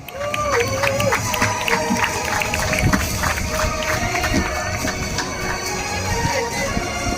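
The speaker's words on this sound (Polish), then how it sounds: "duże brawa" A crowd applauds the women's podium at a river triathlon in Wronki, with sustained clapping as a voice talks over the top.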